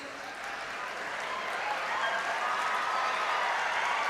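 Sustained applause from a convocation audience at the ICFAI Foundation for Higher Education, a dense wash of many hands clapping that grows slightly louder and holds steady throughout.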